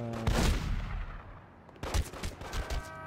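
Gunfire in The Godfather video game, two quick bursts of rapid shots a second or so apart, somewhat distant and muffled.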